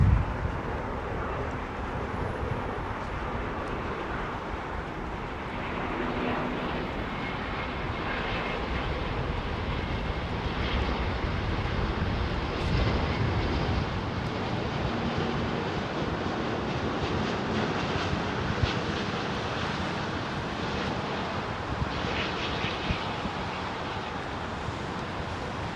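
A jet airliner engine at Heathrow Airport hisses and roars as it expels bleed air, producing a steady, moderately distant broadband whoosh with no one talking.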